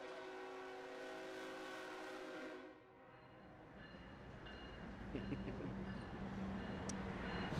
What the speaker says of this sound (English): Somehow I find myself next to trains often lately. So sorry about that.